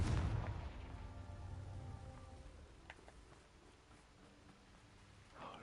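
The Confringo blasting spell explodes in the video game Hogwarts Legacy. A heavy boom hits at the start and fades into a long rumbling tail, with a fainter burst near the end.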